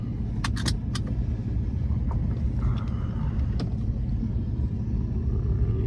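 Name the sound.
2014 Porsche 911 S engine with sports exhaust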